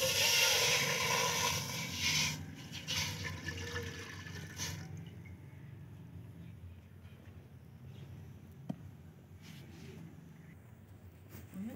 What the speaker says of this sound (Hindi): तो इसमें हम आधा लीटर हमने पानी का डाला।